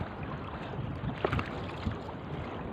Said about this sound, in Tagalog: lumalakas talaga ng hangin